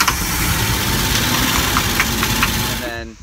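A vintage RV engine idles steadily just after starting, a close, continuous rough rumble that runs loud for about three seconds before cutting off abruptly near the end.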